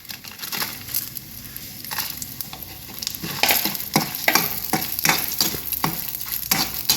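Dried red chillies, both long and round varieties, dropped into hot oil with asafoetida, crackling and sizzling up close while a spoon stirs with repeated sharp scraping strokes.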